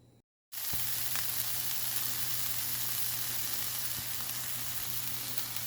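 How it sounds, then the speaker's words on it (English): Food sizzles steadily and fairly close in a hot pan after a brief silence, a continuous frying hiss with occasional small pops. "then we will just start our stir frying"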